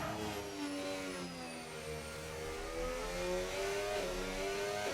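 McLaren Formula 1 car in a racing video game, its engine whining steadily at high revs through a qualifying lap at the Netherlands Grand Prix, with rising and falling gear pitch and no talk.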